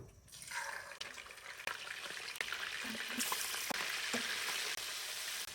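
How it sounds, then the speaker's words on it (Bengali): Salted fish lightly frying in a pan, a steady broad sizzle and crackle running throughout, moderately close, with a few faint clinks and scrapes. "এই লবণ সহ মাছটা এখন আমি হালকা একটু ভেজে নেব"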